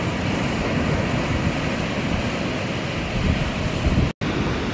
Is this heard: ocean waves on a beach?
yes